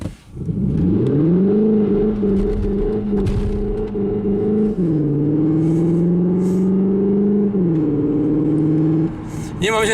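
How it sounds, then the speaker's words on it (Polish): A 2021 Cupra Leon ST plug-in hybrid with 245 hp accelerates hard with stability control switched off, its loud engine drone climbing steadily in pitch through two gear changes, close and continuous with no talking. "Ja chyba postaram się zrobić jeszcze raz taki, taką próbę przyspieszenia"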